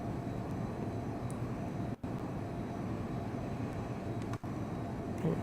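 An aircraft engine in the Prepar3D v2 flight simulator drones steadily and fairly softly during a flight over the Grand Canyon, a continuous broadband hum with two brief dropouts.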